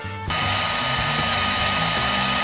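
Heat tool shrinking a printed wire label sleeve: a loud, steady blowing roar that switches on abruptly and holds evenly, with no talking.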